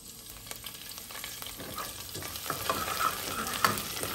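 Curry leaves frying in an oil-filled pan while making Chettinad chicken, a close crackling sizzle with popping spatters and stirring scrapes that grows louder toward the end, no voices.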